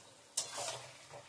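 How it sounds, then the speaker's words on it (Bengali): Chicken pieces sizzle in a hot frying pan as they are stirred, a quick scraping stir followed by soft crackling frying, fairly quiet and with no talking. "চিকেনটা দিয়ে একটু নাড়াচাড়া করতে হবে"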